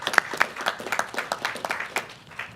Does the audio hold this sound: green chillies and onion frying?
no